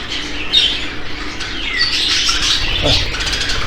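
A young bird gives harsh, raspy squawks that repeat close by over a steady background hiss, with a few higher chirps mixed in.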